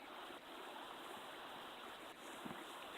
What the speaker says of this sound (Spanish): con el arroyo que corre por ahí, no sé si se escucha el sonido